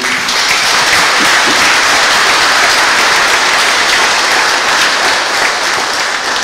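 Loud, dense applause fills a church during a Sunday Mass in Matoury, with the congregation clapping steadily and unbroken for several seconds and no speech over it.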